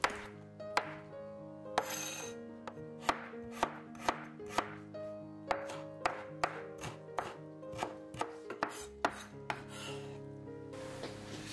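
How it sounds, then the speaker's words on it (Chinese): A kitchen knife chops scallion segments and ginger shreds on a cutting board, giving about twenty crisp, evenly spaced knocks close by over soft background music, with no one speaking. "切一些葱段和姜丝放入带鱼碗中"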